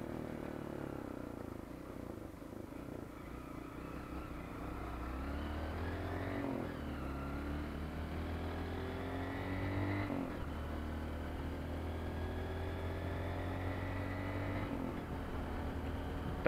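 A motorcycle engine running on ethanol after warming up, idling steadily close by with a smooth, even tone, rising briefly in a few short revs before settling back to a steady idle.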